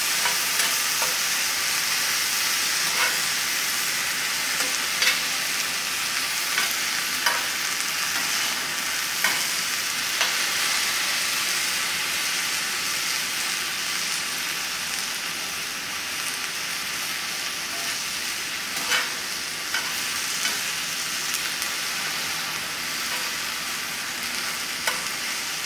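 Spinach sautéing in a pan gives a steady, bright sizzle and hiss, with occasional pops and the scrape of stirring for the whole stretch, close up and without any talk.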